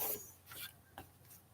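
Gesso is scraped up with a tool while a handmade Christmas card is being made: faint, close rasping strokes over under two seconds.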